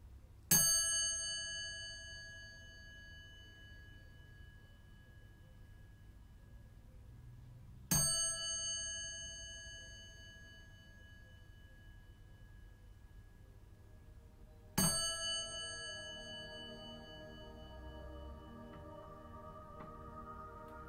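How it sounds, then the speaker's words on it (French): A meditation bell rings three times, evenly spaced about seven seconds apart. Each strike is clear and bright, then fades slowly into a quiet, still room with no voices. "après avoir invité la cloche à sonner"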